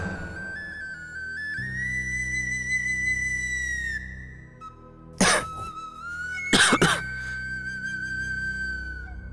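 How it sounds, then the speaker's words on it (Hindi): Two loud, harsh coughing fits close by, breaking through a sustained whistling tone in the background. "बहुत खांसी आ रही है बेटा, पानी बदल हुआ है।"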